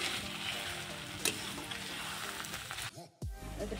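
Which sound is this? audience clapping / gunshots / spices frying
spices frying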